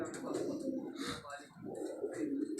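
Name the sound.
pigeons cooing on a Karachi rooftop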